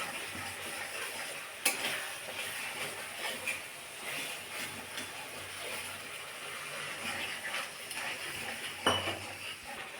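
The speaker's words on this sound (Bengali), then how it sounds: "এবার মশলাটা একটু কষিয়ে নেব যতক্ষণ না তেল বেরিয়ে আসে" Spice paste sautéing in a pan until the oil separates, a soft, quiet sizzle with light clinks and scrapes of a spoon against the pan now and then.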